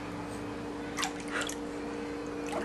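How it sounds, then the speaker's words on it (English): A child splashes in bath water, giving a few small, close watery slaps and drips over a steady background hum. "Ooh, look at you splashing."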